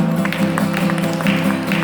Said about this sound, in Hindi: परमेश्वर के जोरदार ताली बजाएं